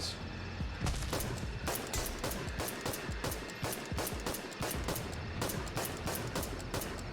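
Rapid automatic gunfire in the zombie survival video game The Last Stand: Aftermath, a loud, steady stream of sharp shots fired in quick succession for several seconds.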